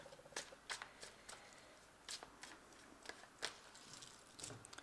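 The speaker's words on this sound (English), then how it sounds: "So I have shuffled this deck." Cards being shuffled in quick riffling bursts, crisp and close, with short pauses between each pass.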